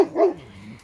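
A single loud bark from an older Labrador that guards sheep, close by, followed by a brief low trailing whine.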